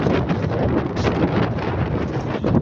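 Strong wind buffets the microphone with a loud, continuous low roar and rumble that never lets up.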